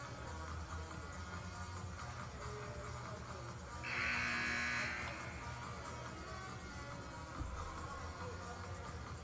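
A basketball game buzzer during a playoff game, one loud electronic blast lasting about a second over steady crowd noise in a gym.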